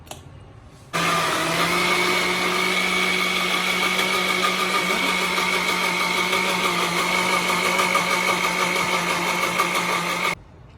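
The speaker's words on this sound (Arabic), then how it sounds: "وهنضربهم بقى طبعا في الخلاط" A blender whirs steadily for about ten seconds, a loud continuous motor drone with a high whine, starting and stopping abruptly.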